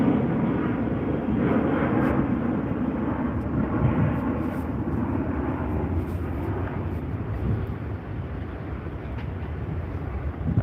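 A Qantas airliner on the Sydney to Auckland route passes with a sustained low engine rumble and wash of broadband noise, steady and fairly distant, without any talking.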